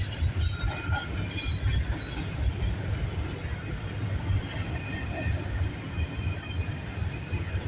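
A CN train rumbles past nearby on the York Subdivision, wheels clattering and squealing on the rails in a loud, continuous roar.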